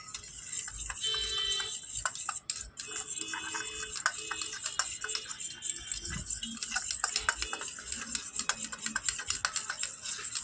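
Steady rapid clicking and ticking of a utensil beating a soy sauce and chilli sauce mixture in a bowl, a brisk continuous rhythm lasting throughout with a few brief gaps, no voices.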